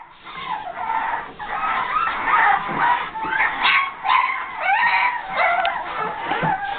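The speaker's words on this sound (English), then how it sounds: "Screaming puppies." Several Boston Terrier puppies about five and a half weeks old cry, whimper and yip continuously in shrill overlapping bursts, loud and close with no talking.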